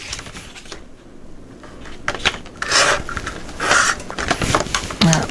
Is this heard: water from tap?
no